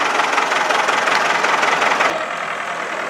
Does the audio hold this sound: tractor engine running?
yes